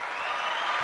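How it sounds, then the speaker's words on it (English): Short canned applause effect triggered from a sound button, a steady burst of clapping at moderate volume lasting under a second with no voices over it. "Give you a little cheap applause there."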